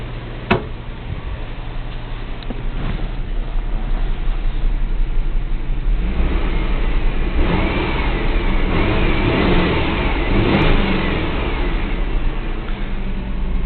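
A Mazda Millenia with 170,000 miles idles steadily, then its engine revs up and holds at a higher pitch, with a faint ticking running through the loud, close mechanical drone.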